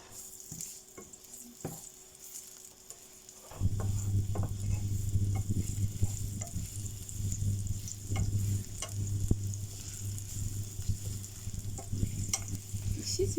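Chicken wings frying with minced garlic in oil while being stirred, with a loud, steady sizzle that starts suddenly and keeps going, broken by clicks and scrapes of the utensil in the pan, close up with no talk.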